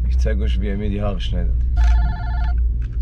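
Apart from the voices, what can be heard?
mobile phone ringing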